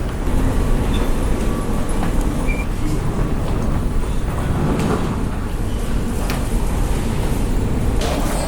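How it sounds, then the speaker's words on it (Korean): Shuttle train between Johor Bahru and Singapore, a steady loud rumble of rolling stock and interior rail noise running throughout with no clear breaks. "와, 드디어 기차를 탑니다."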